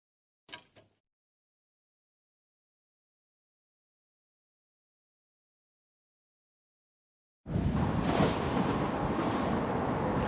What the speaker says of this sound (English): We can hear the thunderstorms start to brew in the background.